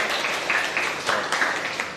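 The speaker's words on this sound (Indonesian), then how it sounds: "tepuk tangan untuk Dela" Brief, loose clapping from a classroom group of students applauding a pupil named Dela, mid-level and uneven, with a few distinct claps poking through.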